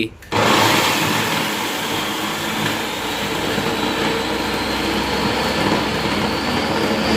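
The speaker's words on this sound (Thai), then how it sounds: "วนมาที่เครื่องปั่นครับ" An electric blender grinds red chili, garlic and coriander root, a loud, continuous whirring roar that starts abruptly and runs steadily to the end, with no pauses.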